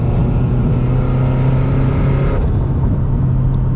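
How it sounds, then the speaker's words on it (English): Loud, close engine drone from a Subaru FRS with a rebuilt engine and JDL turbo kit, with an airy wastegate flutter and hiss rising near the end, no talking. "And then the nice wastegate noise."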